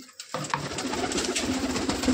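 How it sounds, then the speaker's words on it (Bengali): Racing pigeons, a flock released to fly, with a soft coo rising over a steady flutter and rustle that starts abruptly and stays fairly close and even. "সব বাজির পায়রা"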